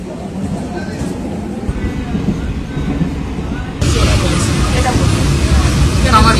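A moving passenger train, likely a Sunday local near Kamarkundu, rumbles in a steady low roar inside the carriage, growing louder and brighter partway through as the noise of the wheels and track rises, with faint voices underneath.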